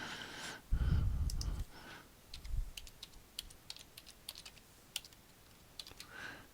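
Computer keyboard typing during spreadsheet work in Excel: a run of light, irregular key clicks, close and fairly faint, following a soft sigh-like breath at the start.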